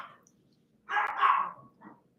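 A dog barks in a short burst of a few loud, close yaps, ending with a softer trailing bark after a near-silent lead-in.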